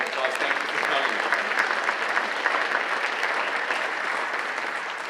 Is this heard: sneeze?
no